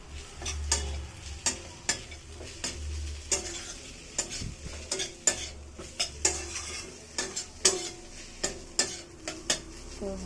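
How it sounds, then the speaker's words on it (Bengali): Food frying in a pan is tossed and mixed, with repeated sharp utensil scrapes and clinks over a soft sizzle, close and fairly regular, no voices. "ঝাঁকানাকা করে মিশিয়ে নিলাম"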